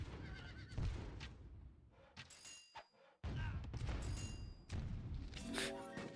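Horses neigh and whinny amid battle noise in the strategy game Rise of Nations, with hoof clatter, thuds and gunfire bursts in a busy mix.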